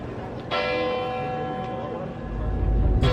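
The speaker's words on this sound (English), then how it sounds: "It's noon, so we're hearing the bells." Church bells ring out at noon near Lucca, Italy, with a sustained, resonant tone, a fresh strike partway through, over faint background noise.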